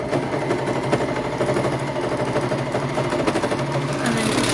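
A sewing machine running steadily while stitching a seam on children's leggings, a close, continuous mechanical whir with rapid needle rhythm and no pauses.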